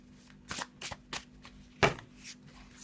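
Black-and-white Faulkner tarot deck being shuffled by hand: several distinct riffling bursts at an uneven pace, close and fairly quiet, with one louder snap of cards near the end and no talking.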